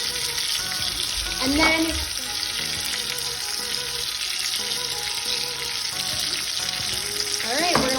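Salted and peppered chicken cooking in a pan gives a constant close sizzle with faint watery crackle throughout, while a voice speaks briefly near the start and end.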